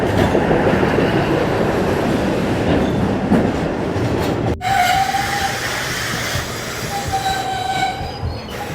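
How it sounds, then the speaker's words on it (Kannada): A passenger train bound for Hassan pulls into a station, a loud rumble of wheels and clattering cars followed by squealing brakes and a sharp horn blast partway through. "ಕೊನೆಗೂ ಬಂತು ಟ್ರೈನು"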